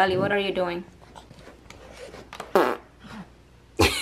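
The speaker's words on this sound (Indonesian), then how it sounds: "Kamu kentut ya" A person speaks briefly indoors, then two short, close bursts of farting sound break the quiet, the second one sharp and loud.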